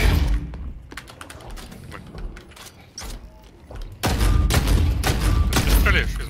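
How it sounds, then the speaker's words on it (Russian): Rapid gunfire bursts crackle in The Cycle: Frontier, sharp repeated shots that grow denser and louder toward the end, with a player's voice mixed in. "Я в него стреляю."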